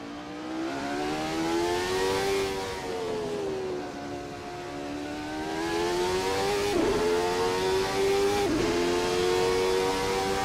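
Jordan Ford 191 Formula One car from 1991 in a racing video game, driving the Spa circuit, its engine holding a steady high whine that rises and dips with gear changes and throttle, loud and continuous with no talking.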